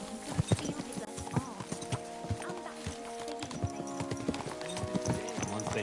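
Horse hooves clip-clop in a steady walking rhythm in the video game Kingdom Come 2, close and distinct, layered over a continuous musical and ambient game background.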